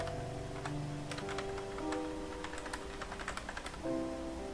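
Quiet, irregular clicks and taps of fingers typing on a computer keyboard, with a soft tonal hum and faint background sounds in the room.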